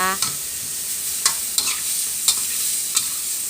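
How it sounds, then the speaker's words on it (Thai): Clams stir-fried in a hot pan for a Thai basil dish, with a constant loud sizzle and several sharp scrapes and clacks of a utensil stirring, close up and without talking. "นี่จะใส่หอยกาบลงไปแล้วเราก็ผัดเลยค่ะ"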